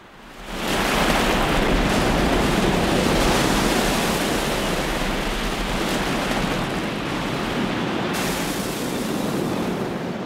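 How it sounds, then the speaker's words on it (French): Heavy ocean swell pounds a rocky intertidal shore, producing a loud, continuous roar of breaking surf and rushing water that holds steady for about ten seconds with no voices. "supporter le violent battage de la houle"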